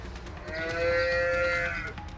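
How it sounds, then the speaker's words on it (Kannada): A group of cattle low together in one long, loud, sustained moo with harmonic tones, at a farm where first-calf HF heifers and two-tooth cows are up for sale. "ಒಂದು ಹಸು ಈ ಕಡೆ ಬಂತಂದ್ರೆ ಎಲ್ಲವೂ ಕೂಡ ಅರ್ಚ್ಲಿಕ್ಕೆ ಸ್ಟಾರ್ಟ್ ಆಗಿಬಿಡ್ತವೆ"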